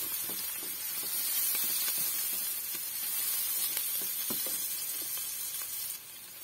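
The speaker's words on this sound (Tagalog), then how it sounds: "hintayin lang po natin mag-golden brown itong dalawang sangkap" Garlic fries in oil in a pan, browning to golden, a constant soft sizzle and hiss with faint crackles, close and without talk.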